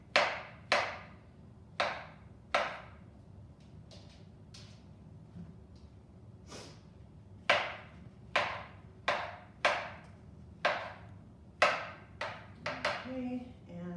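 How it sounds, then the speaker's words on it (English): A knife cuts washed mushrooms into thin slices on a board. Sharp, close taps land one after another at an uneven pace, with a quicker run of cuts near the end. "Mushrooms, again, they've all been washed. Slice them into thin slices."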